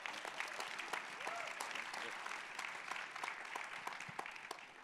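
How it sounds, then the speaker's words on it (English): An audience at a policy conference gives steady applause for the panelists, a dense wash of clapping that is fairly faint and distant and lasts the whole stretch without letting up. "let me get a round of applause for all our panelists."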